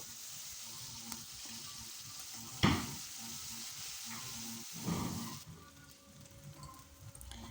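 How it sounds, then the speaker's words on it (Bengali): A steady, soft sizzle of ground spice paste frying in oil in a wok, broken by a sharp clatter and a later stirring scrape. "এবার বেটে রাখা মশলাটা তেলে দিয়ে খুব ভালোভাবে মশলাটা ভেজে নেব।"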